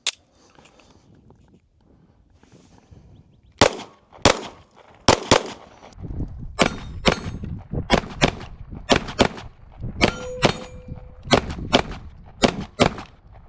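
EAA Girsan MC9 Disruptor pistol firing reloaded rounds at steel targets, a quick string of loud sharp shots, some in fast pairs, with faint rustling early on and a ringing hit on steel between shots.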